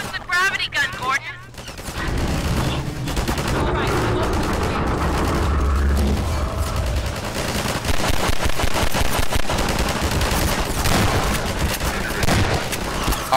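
Heavy gunfire from the Half-Life 2 video game, dense sustained bursts of shots and explosions that fill the whole stretch with loud, continuous combat noise, with a voice speaking briefly near the start.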